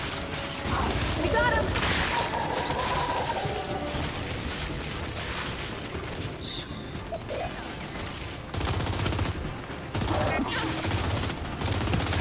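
Gunfire from the video game Gears 5 during an escort mission, dense and continuous across the clip, mixed with mechanical clanks, crashes and game noise, with a voice speaking over it.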